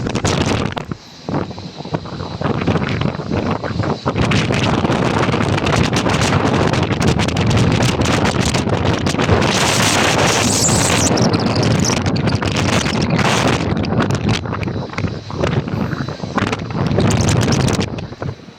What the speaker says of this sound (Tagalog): Saka ang lakas ng hangin